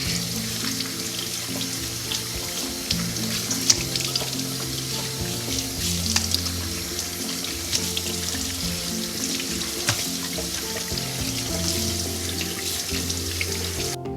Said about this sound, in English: And we'll give it one more rinse with cold water.